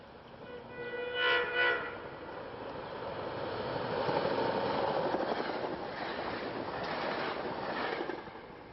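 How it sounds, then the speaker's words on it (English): Silverliner commuter trains roll through Jenkintown station, a steady rumbling rush building and lingering for several seconds, with a brief horn-like tone near the start; moderately distant and alone, no voices. "At this location, you have 10 trains passing through here in an hour during the weekdays"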